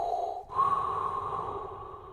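A person's voice imitates heavy, excited breathing, with a sharp snorting gasp followed by a long raspy breath, close and alone with no speech.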